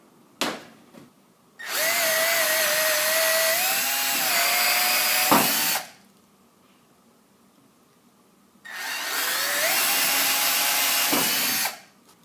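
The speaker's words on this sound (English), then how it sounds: "We're going to use the Milwaukee Drill to drill clearance holes for these countersunk screws" A Milwaukee M12 drill bores clearance holes for countersunk screws in wooden battens, giving two sustained, close, loud whining bursts whose pitch dips and shifts under load, separated by a few seconds of quiet.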